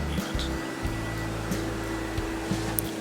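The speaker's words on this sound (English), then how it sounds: "use the vacuum cleaner to clean around the end cutting unit" Vacuum cleaner running steadily around the end cutting unit of an edge banding machine during maintenance, a loud continuous close-up whine and hum with faint bumps as the nozzle moves.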